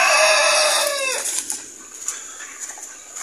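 Farmyard chickens and roosters, including brooding hens, heard as a strong, drawn-out crow at the start that fades, followed by scattered clucks and faint calls against quiet background, no talk.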